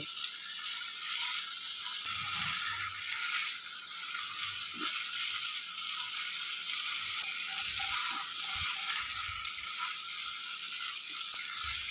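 Okra frying in a pan with spices and a little sugar gives a steady bright sizzle, with soft intermittent scrapes and knocks of stirring underneath.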